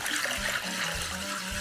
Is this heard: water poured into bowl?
yes